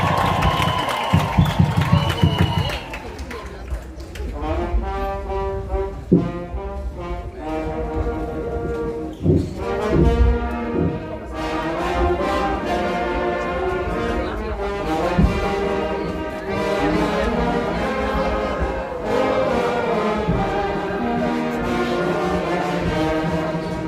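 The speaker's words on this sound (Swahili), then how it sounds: "Vigelegele na shangwe vizuri." Wedding guests raise ululation and cheering, a loud crowd of high trilling voices and shouts layered over festive music with a strong low beat, continuing throughout.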